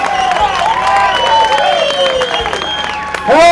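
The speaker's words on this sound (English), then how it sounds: "Let's give him a big round of applause" A crowd claps and cheers for an angler at a Delta bass fishing tournament weigh-in, a loud steady applause under amplified, whistling sound that rises sharply near the end.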